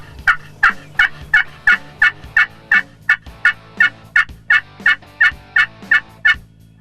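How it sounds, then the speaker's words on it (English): Wild turkeys gobble repeatedly around a hunting blind during a Missouri spring turkey hunt, a steady rhythm of about fifteen loud, close gobbles spaced evenly with faint background birds. "Right off the bat, there's bird turkeys gobbling all around us"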